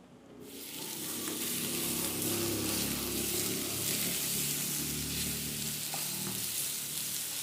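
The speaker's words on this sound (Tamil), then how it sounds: "தேங்கெண்ணெய் நல்லா சூடாகிட்டு இதில் நாங்கள் அந்த வெட்டி வச்சிருக்கிற வெங்காய தாளை போட்டுருவோம்" Steady, loud sizzling of onion frying in hot coconut oil, a dense crackle that starts abruptly and holds throughout with faint stirring, no voices.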